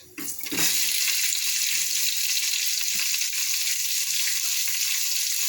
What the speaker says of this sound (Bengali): পেঁয়াজ, আদা আর রসুনটা ভালো করে ভেজে নেব